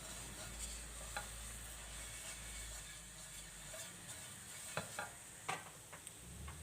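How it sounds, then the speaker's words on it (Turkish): Steady sizzling and stirring as flour toasts in a hot pot, a continuous frying hiss with occasional scraping clicks near the end. "Şimdi unun kokusu çıkana kadar biraz kavuracağım."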